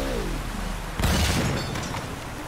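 A game explosion in Uncharted Remastered bursts in as a sudden booming blast partway through, with rumbling debris and crackle trailing off after it, set against steady in-game ambience.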